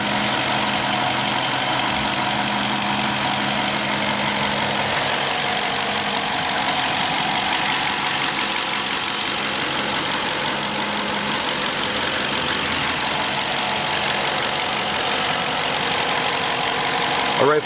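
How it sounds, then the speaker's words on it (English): The 5.7 HEMI V8 of a 2020 Dodge Charger Police AWD idles close by, a constant low hum with a faint rhythmic knock, running alone for the whole stretch. "Here's the engine."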